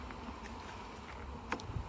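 Honeybees at an open beehive, a faint continuous buzzing hum with a few brief clicks and knocks near the end.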